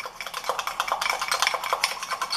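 A spoon stirring Nescau chocolate powder into condensed milk frosting in a bowl, quick repeated clinks and scrapes against the dish in an uneven rhythm, close and fairly quiet, with no talking.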